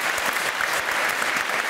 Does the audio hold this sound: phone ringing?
no